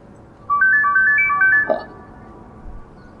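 A cellphone plays a melodic ringtone of short bright repeated tones for about a second and a half, then stops; it sounds clear and near over a quiet room background.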